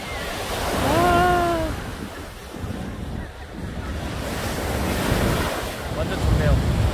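Ocean surf rolls in at Coogee Beach, Sydney, a steady broad roar of waves with gusting wind buffeting the microphone, and a brief bird call near the start.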